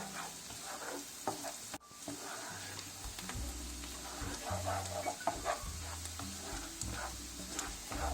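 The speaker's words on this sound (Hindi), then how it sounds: "कम से कम 2 से 3 मिनट इसको फ्राई करेंगे ताकि ये सॉफ्ट हो जाए" Something softening as it fries in a pan, a steady sizzle running throughout, with a low humming drone beneath and occasional stirring clatter; no one speaks.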